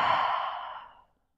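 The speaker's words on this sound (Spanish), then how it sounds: "Si necesito, exhalo por la boca." A deep exhale through the mouth during yoga, one long breathy sigh close to the microphone that starts strong and fades out over about a second.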